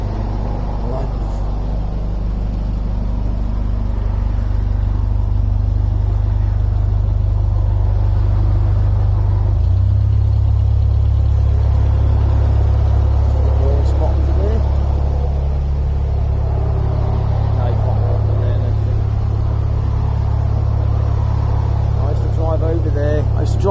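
Motorway traffic on the M40 passes overhead, heard from a narrowboat cruising along the Oxford canal, as a continuous heavy low rumble and roar that swells and ebbs while people talk throughout.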